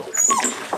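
An anxious dog frightened during a thunderstorm lets out short, high-pitched whimpers and a faint yip, close and clear over less than a second.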